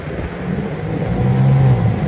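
A BMW M3 sports car engine drones steadily and swells louder as it drives by close, with a deep rumbling tone.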